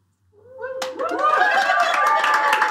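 A podcast audience breaks into clapping after a brief voice, the scattered claps quickly swelling into steady, close applause that carries on to the end.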